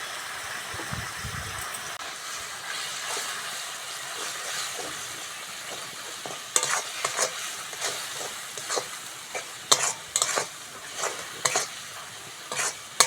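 Chili, coriander and cumin powder masala with turmeric and salt sautéing for chicken chaat, a constant sizzle under repeated clattering stirs of a spatula against the pan that grow busier in the second half, close by with no voices.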